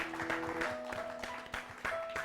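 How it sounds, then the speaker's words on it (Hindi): Applause for a women farmer award presentation, brisk clapping mixed with steady tonal music, moderately loud. "जोरदार तालियां जनाब"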